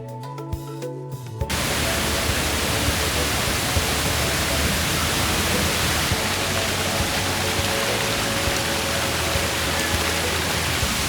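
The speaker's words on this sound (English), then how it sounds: "We have arrived at the waterfall" Rochester Falls in Mauritius roars as a loud, steady rush of falling water, starting abruptly after a brief quieter moment and continuing unbroken.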